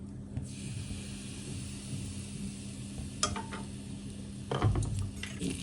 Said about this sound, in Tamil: இப்போ நான் வந்து சுட சுட இந்த எண்ணெய் எடுத்து இந்த சில்லி ஃப்ளேக்ஸில் ஊற்றிக்கிறேன்